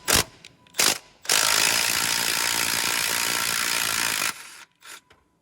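Milwaukee cordless ratchet loosening rusted strut nuts: two short mechanical bursts, then a loud, continuous whirring ratchet run of about three seconds that cuts off, followed by a few brief clicks.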